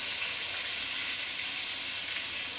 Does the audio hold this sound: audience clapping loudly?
no